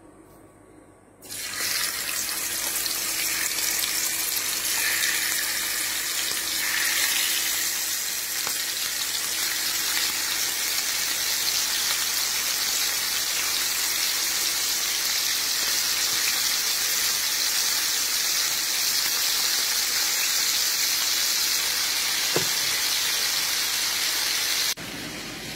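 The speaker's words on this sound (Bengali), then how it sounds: "এখন আমি মাংসটা ভেজে নেব" Chicken pieces frying in a pan for biryani, a steady loud hiss and sizzle that holds for nearly the whole stretch, close and continuous, with no talking over it.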